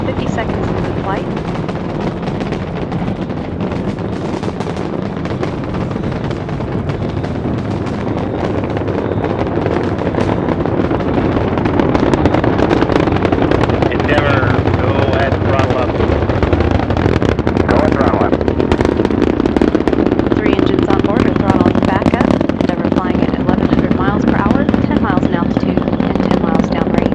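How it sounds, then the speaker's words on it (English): Space Shuttle Endeavour lifting off on mission STS-127, its engines and boosters producing a loud, continuous crackling roar that swells and grows rougher after about ten seconds, with a voice talking over it. "Endeavour's engines were throttling down as the orbiter passes through the area of maximum pressure on the vehicle"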